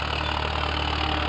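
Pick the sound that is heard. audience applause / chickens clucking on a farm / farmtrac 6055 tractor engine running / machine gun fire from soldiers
farmtrac 6055 tractor engine running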